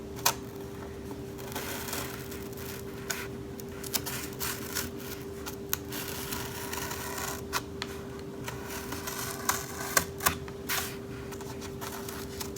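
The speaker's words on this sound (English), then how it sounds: "The foam paper is pretty easy to cut. You just you want to do a couple scores." A blade cutter scores and slices through foam paper along a guide, giving short scratchy strokes and light clicks that come in irregular bursts at close range.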